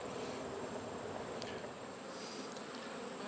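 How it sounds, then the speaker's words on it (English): Honey bees in a summer bee yard, a dense, steady buzzing hum close by, continuous and unbroken with no voices over it. "This is a good yard of bees."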